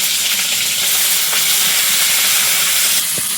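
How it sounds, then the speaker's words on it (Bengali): Prawns hitting a hot wok in a rural Sundarban kitchen, a dense, loud, continuous hiss of frying that stays steady from start to finish. "দিয়েছি কড়াই চিংড়ি মাছ"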